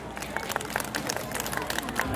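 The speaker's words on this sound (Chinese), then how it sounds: "我想我们用热烈的掌声谢谢他们" A crowd at an outdoor Hanfu festival gathering on a packed plaza applauds, a dense, continuous patter of clapping mixed with crowd noise throughout.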